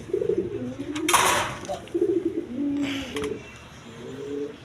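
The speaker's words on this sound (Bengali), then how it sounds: "এখানে একটা সিঙ্গেল নোয়ার কবুতর আছে দেখেন রাসগোল্লা কবুতর একদম বিগ সাইজের কবুতর" Big Rasgolla breed pigeons cooing up close, several repeated low throaty coos in a loose rhythm, with a couple of short bursts of rustling or flapping between them.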